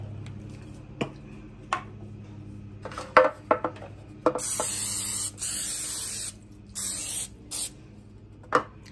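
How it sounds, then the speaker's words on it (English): Several short hisses of butter-flavored aerosol cooking spray onto a baking pan, mixed with clicks and light clatter of handling the pan and can. "spray my pan with some pan butter flavor"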